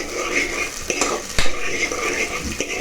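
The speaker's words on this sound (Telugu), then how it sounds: "ఫస్ట్ ఉల్లిగడ్డలు ఫస్ట్ ఆయిల్ పోసాను 4 స్పూన్స్. తర్వాత ఉల్లిగడ్డలు వేసాను." Onions frying in oil for tondakaya (ivy gourd) curry, a close sizzle with a few sharp clanks and scrapes of a spoon stirring against the pan, no talking.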